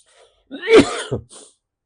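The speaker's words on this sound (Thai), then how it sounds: "เนี่ยไอจามมาพอดีครับ" A single person coughs, a sudden close burst with a short follow-up catch, then quiet, heard alone without talk during a Thai astrology talk broadcast.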